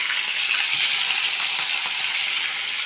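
Vegetables such as onion, green chillies, tomatoes and carrots fry in a pan, a loud, dense and even sizzle heard close up throughout, with no talking.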